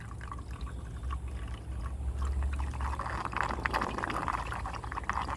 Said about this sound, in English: I pour all the water in here.